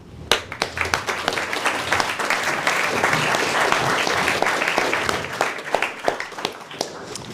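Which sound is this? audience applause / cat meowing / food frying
audience applause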